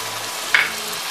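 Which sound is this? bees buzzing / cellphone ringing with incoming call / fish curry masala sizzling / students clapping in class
fish curry masala sizzling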